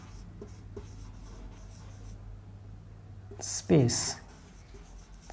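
A hand writes a function name, producing faint scratchy strokes under someone speaking Hindi, then a brief louder scraping burst near the end.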